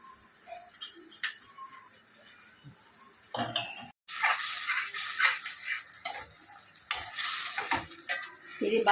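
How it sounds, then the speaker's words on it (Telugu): A tomato rice base fries in hot oil with a soft sizzle, then louder bursts of stirring and scraping in the pan, broken by a brief pause. "ఇది బాగా నూనె పైకి వచ్చేదాకా చక్కగా ఎర్రగా వేపుకోవాలి."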